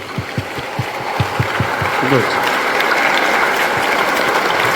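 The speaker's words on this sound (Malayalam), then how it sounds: "അതിനും നല്ലൊരു കൈയടി കൊടുക്കുക" A crowd of schoolchildren at a school assembly claps steadily, the applause building into a dense, continuous patter with a few distinct claps early on.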